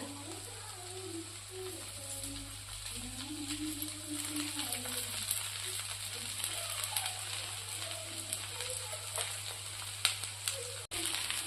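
Thalipeeth, a flat griddle bread, frying in oil on a pan with a steady, close sizzle and crackle running throughout, with occasional faint clinks and no talking.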